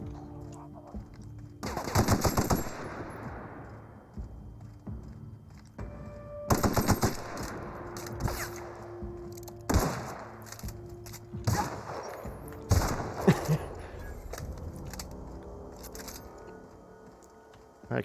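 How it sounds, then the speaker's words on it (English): Video game gunfire from The Outer Worlds: several sharp bursts of rapid shots and single cracks, loud against a quiet game background, separated by short pauses. "I thought somebody was trying to shoot me from behind."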